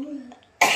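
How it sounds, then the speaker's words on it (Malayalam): One short, sharp cough bursts out at the very end, close and fairly loud, right after a brief trailing bit of voice. "ചുമ വരുന്നു."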